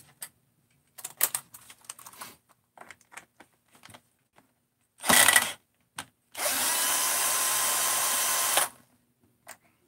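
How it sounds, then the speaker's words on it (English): A torque-sensitive Bosch power tool driving cover screws: scattered small clicks and handling taps, then a short loud whir followed by a longer steady motor run of about two seconds, close up with no talking. "This is just a torque-sensitive Bosch tool."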